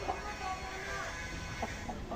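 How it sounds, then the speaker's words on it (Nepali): Village chickens and roosters cluck in short, scattered calls at moderate distance over a steady outdoor background. "दुईवटा भाले"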